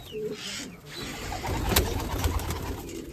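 Large pigeons in a loft coo in low, throaty rolling calls, with some shuffling and a brief sharp clatter, close by and clear.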